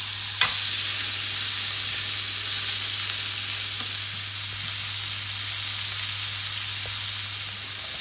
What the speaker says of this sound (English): I'm just going to fry them in olive oil